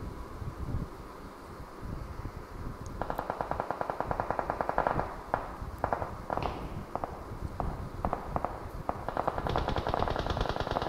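Gunfire in a battle royale video game: rapid bursts of automatic fire and single shots crackle from about three seconds onward over a low background rumble.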